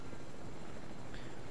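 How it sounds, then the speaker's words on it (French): Helicopter in the Fortnite video game, heard as a constant dense rotor and engine roar filling the whole moment at steady loudness, with no voices. "On va couper les champs avec l'hélicoptère."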